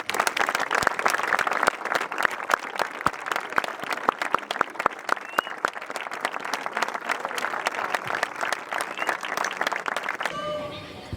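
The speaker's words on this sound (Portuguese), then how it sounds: "prestarmos uma salva de palmas àqueles que partiram" Sustained applause from a gathered crowd at a farewell tribute to a football ground, steady and dense with sharp individual claps throughout, ending abruptly near the close.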